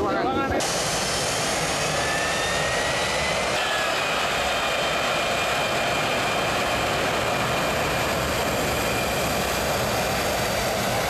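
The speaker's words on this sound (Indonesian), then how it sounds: "Suara pesawat." Loud, steady airplane engine roar filling the whole stretch, unbroken and close, with people talking faintly beneath it.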